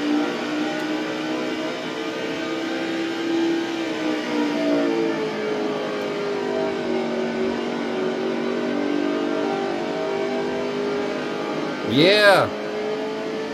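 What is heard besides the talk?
NASCAR race car engine revving during a lap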